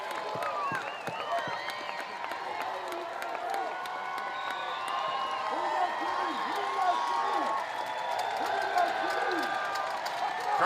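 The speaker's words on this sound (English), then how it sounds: "Crowd on its feet." A softball crowd at an NCAA game between Georgia and Texas A&M stands and cheers, a broad, sustained roar of voices and clapping that swells slightly near the end. A commentator's voice is faintly audible over it.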